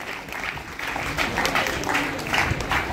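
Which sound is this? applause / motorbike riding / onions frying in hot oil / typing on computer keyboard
applause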